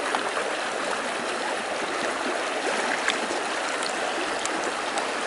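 Gold pan full of pay dirt shaken back and forth underwater to float off the dirt, giving a steady close sloshing and trickling wash with no pauses and no talk.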